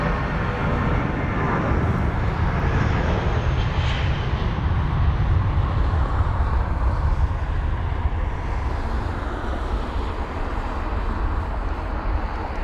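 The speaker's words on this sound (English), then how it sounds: "Is it 320? It's a nice sounding jet." An Airbus A320 jet airliner at London Heathrow gives a continuous broadband engine roar, loud and steady throughout with a deep rumbling low end and no talking.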